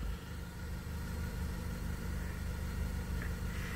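A Ford Focus or Fiesta engine idling steadily, a low, even rumble with a faint rhythmic pulse, close and unchanging, with no voices.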